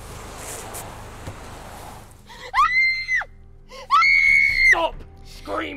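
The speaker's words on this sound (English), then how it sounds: "Screaming!" A person screams twice, long, piercing and close, each cry rising and then holding in a strained, high wail, after a few seconds of quieter background noise.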